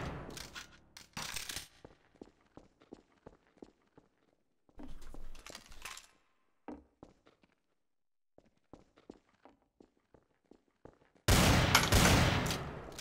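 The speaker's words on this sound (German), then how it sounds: "Wird angeschossen. Ich weiß nicht von wo." Gunfire in the multiplayer shooter Trouble in Terrorist Town: scattered sharp shots and footsteps, closing with a loud dense burst of fire.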